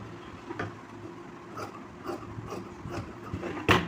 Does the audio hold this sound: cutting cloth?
yes